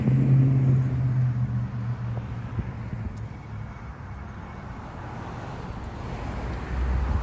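Low rumble of street traffic passing a cyclist on a Fort Lauderdale street, with an engine drone close at first that fades, mixed with wind noise on the microphone, then swells again as another vehicle nears.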